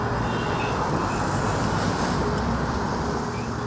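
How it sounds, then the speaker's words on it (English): A Beijing Subway train rumbles steadily throughout, a constant loud roar of rail and wheel noise with no pauses or talk. "they can use the Beijing Subway."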